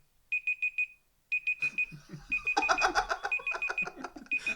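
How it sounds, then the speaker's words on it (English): A shrill electronic alarm beeps in quick bursts of four, pauses, then keeps beeping steadily while background chatter and clatter build up underneath. "I thought that was a fire alarm."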